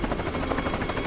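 Helicopter in the video game Worms W.M.D, a steady loud rotor chop with a dense rumbling drone and rhythmic pulsing, close and continuous with no voices.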